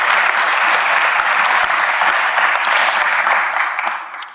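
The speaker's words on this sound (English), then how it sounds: "that deserves an amen and a round of applause" Round of applause from an audience at a travel industry talk, steady dense clapping throughout that thins and fades over the last second.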